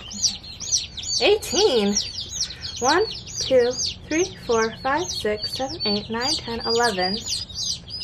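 A box of eighteen baby chicks cheeps constantly in rapid, overlapping high-pitched peeps, close and loud, while a person talks over them.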